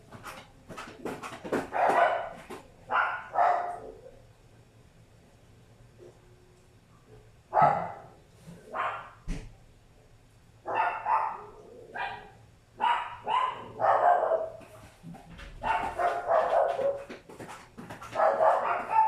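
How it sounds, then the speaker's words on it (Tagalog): A neighbour's dog barks in repeated bursts of several sharp yaps, with quiet pauses between volleys, moderately close and fairly loud. "Pasensya na maingay yung aso sa kapitbahay."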